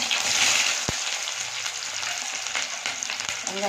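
Mustard seeds, chana dal, urad dal and onion frying in hot oil for a brinjal stir-fry, giving a steady close sizzle with light crackles and a couple of sharp spoon taps against the pan.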